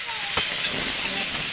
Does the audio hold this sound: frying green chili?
yes